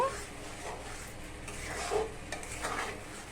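Raw mango jelly with vinegar is stirred in a pan, giving soft, faint scraping and rubbing with light utensil clinks against a quiet sizzling background.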